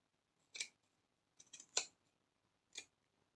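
Scissors snip excess fabric from a sewn cold-shoulder sleeve, giving four crisp, close cuts spaced over a few seconds in an otherwise quiet room.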